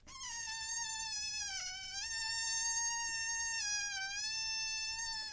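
A shrill, reedy squeal wavers between several pitches like a rough tune, dipping and rising, loud and close with no talking.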